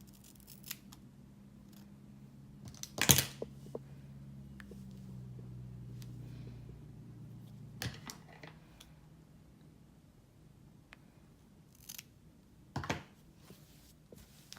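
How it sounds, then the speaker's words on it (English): Scissors trimming a person's own hair: a couple of distinct snips, one sharp cut near the start and another toward the end, with a few faint clicks in between in an otherwise quiet room and no talk. "gather it, look down, and I'm just gonna trim a little bit."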